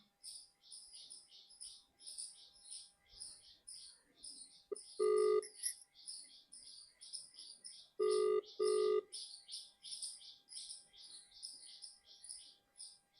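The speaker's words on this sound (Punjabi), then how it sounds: "5 ਮਿੰਟ ਫੋਨ ਕਰ ਹੀ ਲੈਣੀ ਆ" A telephone being dialed, with a few loud, close tonal rings at intervals over constant high chirping in the background.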